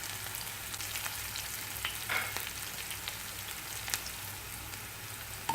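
Mustard seeds, urad dal, cumin, onion, curry leaves and asafoetida fry in hot oil for a brinjal dish, giving a soft, continuous sizzle with faint crackles and occasional stirring noises.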